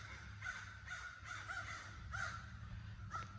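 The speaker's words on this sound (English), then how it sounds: "Can you hear the crows?" Several crows caw repeatedly in a backyard in autumn, harsh calls spaced a second or so apart and heard at a moderate distance over quiet outdoor ambience.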